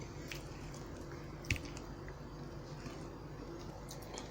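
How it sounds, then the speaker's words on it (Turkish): Ingredients for cookie dough, including vanilla sugar, are mashed and mixed by hand, giving soft squishing and sticky squelches close up over a steady low background hum, with one brief knock partway through. "Bunları da şöyle karıştıralım. iyice karıştıralım. Ezelim elimizde."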